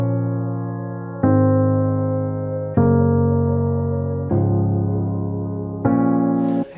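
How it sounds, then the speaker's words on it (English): Sustained synth chords made in Logic with a tremolo auto-pan effect sweep between speakers, five chords changing at steady intervals, each struck then slowly decaying, clear and alone without speech. "I'll add a little bit of tremolo because in Logic doesn't have a dedicated auto pan"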